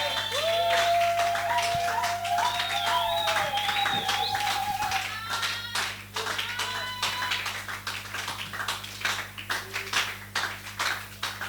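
A church congregation claps and cheers during a Sunday service on the first Sunday of the year. Dense clapping runs throughout, with rising and falling cries and whistle-like tones above a constant low hum.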